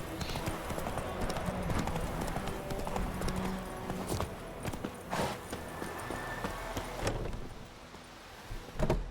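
The horse Roach's hooves clip-clop steadily in a video game, a close, moderately quiet walking rhythm of hoofbeats with a few louder thuds.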